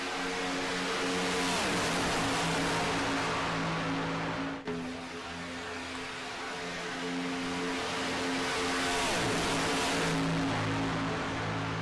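Race cars in a Talladega racing game, a sustained engine drone that swells and fades as the pack roars by, with a brief dip in the middle.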